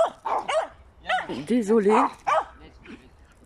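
A small dog barks repeatedly at another dog in sharp yapping bursts mixed with whiny yips, close by, while a person talks over the noise.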